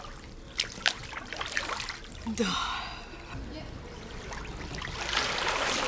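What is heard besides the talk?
ocean water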